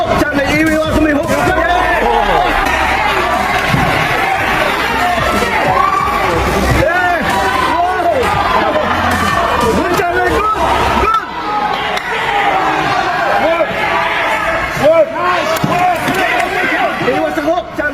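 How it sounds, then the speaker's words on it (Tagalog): A loud Australian arena crowd roars continuously during a WBO title boxing bout between Suarez and Fleming, with commentary talking throughout over the constant cheering. "Lalong umingay ang arena habang walang tigil sa pagsuporta ang Australian crowd sa kanilang kampiyon"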